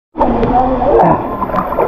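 Water splashes and sloshes as someone swims at a family outing, a close, loud burst of splashing that starts abruptly and continues with gurgling churn.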